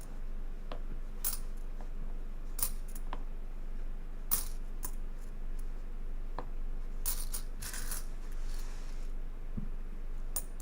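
Quarters from coin rolls clink and click in scattered bursts, with sharp metallic taps and rattles at close range and quiet handling noise in between.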